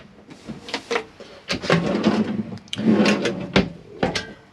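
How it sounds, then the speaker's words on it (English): Large cutlery drawer in a 2016 Auto Trail Mohawk motorhome sliding open and shut several times, with rattling runners, clinking contents and sharp bumps at each stop, close and loud. "Yeah, you've got a large cutlery drawer"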